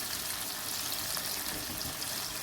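A steady broadband hiss and gentle sputter as a splash of water meets the cooking degi aloo gobhi in the pan, continuous and close, with no talking.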